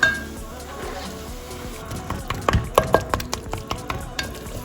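Eggplant goes into a pan of hot oil and spices for Pakistani baingan bhurta, with a soft frying sizzle, utensil stirring and sharp clinks against the pan in an uneven rhythm.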